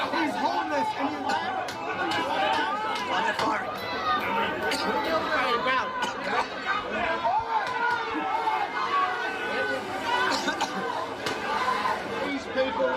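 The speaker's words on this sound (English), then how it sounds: "The crowd is now starting to disperse." A large crowd of protesters chatters and murmurs continuously as it begins to disperse, many overlapping voices close by at a steady, dense level throughout.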